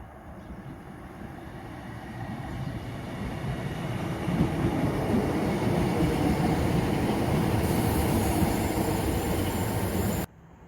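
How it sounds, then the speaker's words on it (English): A train rumbles steadily through a station in Rhondda Cynon Taf, Wales, with a low rolling roar, wheels faintly squealing higher up, before cutting off abruptly at the end; Class 398 tram trains wait nearby. "There are the class 398 tram trains awaiting to come into service."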